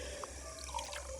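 Water runs faintly from a household kitchen tap into a sink with a drain, a soft steady trickle with a few small drip-like splashes.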